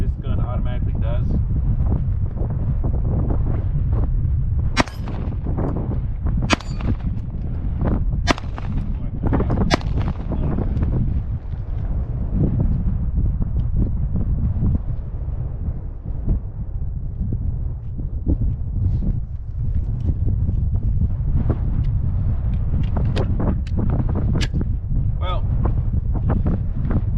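Handgun fired with a Vortex Defender-CCW optic outdoors: several sharp, widely spaced shots crack over constant heavy wind noise, with talk running underneath.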